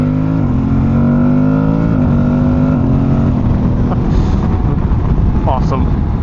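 A motorcycle engine heard while riding, a loud steady drone whose pitch climbs and drops through gear changes, with heavy wind rush over the microphone throughout.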